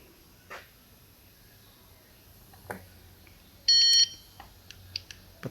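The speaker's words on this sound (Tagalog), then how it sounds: "Patay ko muna yung buzzer." A buzzer in a Toyota FJ Cruiser being checked for a 4WD indicator fault gives one loud, steady electronic tone lasting about a third of a second. Short clicks and knocks come before it and after it over a quiet background.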